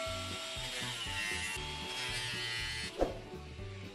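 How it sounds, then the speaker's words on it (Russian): An angle grinder cuts through a plastic canister along a marked line, a steady high whine with a gritty rasp, close and loud, with a sharp bump near the end. "Далее беру в руки болгарку и режу по разметке."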